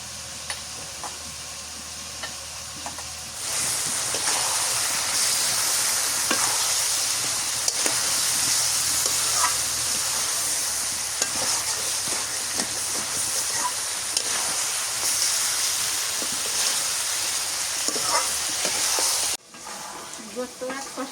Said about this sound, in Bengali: গোস্ত কষানি করে নিলাম।